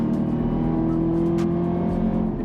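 A Chevrolet Camaro ZL1 engine roars at a steady high rev, loud and close, holding a sustained growl throughout.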